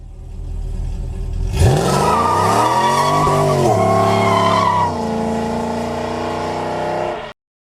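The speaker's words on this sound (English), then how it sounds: "so you can do burnouts like this" A 2002 Pontiac Trans Am WS6 with a stall torque converter does a burnout, its engine revving up hard as the tires break loose into a long, loud screeching squeal that holds for several seconds before cutting off abruptly.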